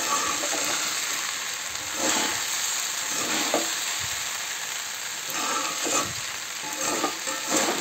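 Fried peanuts being stirred into sabudana pulao in a pan over medium heat, a continuous sizzle broken by repeated scraping strokes of a spoon, close and moderately loud with no talking.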